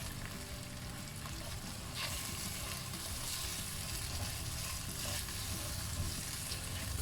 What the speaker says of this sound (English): So now, throw in the onion in the frying pan here.